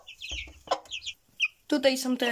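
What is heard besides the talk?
roosters and hens clucking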